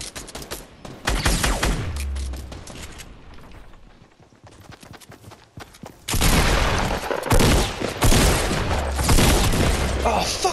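Heavy video game gunfire from an opposing team, dense rapid bursts of shots in two loud spells separated by a quieter gap, with a voice speaking between and under the shooting.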